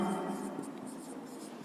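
Pen or marker strokes scratch softly as a matrix determinant is written out by hand during a maths lecture, a faint continuous scribbling with light rhythmic strokes.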